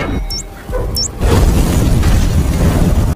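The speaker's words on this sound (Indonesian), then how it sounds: "Davis dan Shaw berhasil menghindari ledakan tepat waktu" A bomb goes off inside a lift in an action film: a few faint high squeals, then a sudden loud boom at about one second that rolls into a sustained roaring, crackling blast to the end.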